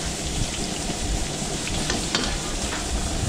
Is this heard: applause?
no